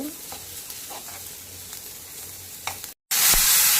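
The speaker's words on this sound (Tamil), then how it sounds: "வெங்காயம் நல்லா வதங்கிடுச்சு" Onions sautéing in a pan for a peppery lung fry, a steady moderate sizzle with occasional stirring scrapes, then a brief gap followed by a louder, brighter burst of frying.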